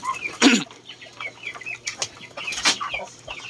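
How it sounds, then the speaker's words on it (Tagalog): Chickens clucking and pecking at feed, soft irregular clucks with a few sharp flaps or scratches, fairly close with no voices. "Ganyan kalakas kumain yung ating mga manok."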